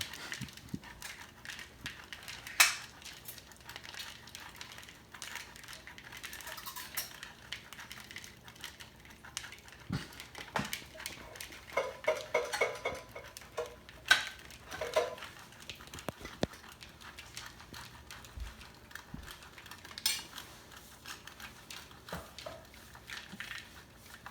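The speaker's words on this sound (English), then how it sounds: "I'm gonna be shredding some cheese" Cheese rubbed against a grater, a faint, irregular scraping and crunching that goes on throughout, with scattered soft kitchen knocks.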